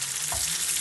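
Tunisian brick pastry fries in hot oil, giving a steady, fine crackling sizzle with a soft low thump as it goes in, brief and moderately quiet.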